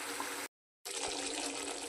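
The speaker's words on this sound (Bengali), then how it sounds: "সামান্য পরিমাণে একটু জল দিয়ে দিলাম" A little water is poured into a cooking pot of rice and dal, a brief splashing rush that pauses for a moment and then continues, close and fairly loud.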